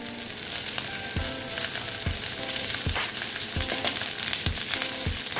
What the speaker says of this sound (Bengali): দিয়ে পেঁয়াজটার সঙ্গে একটু ভেজে নেব